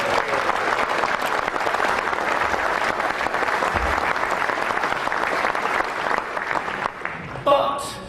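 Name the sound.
conference audience applause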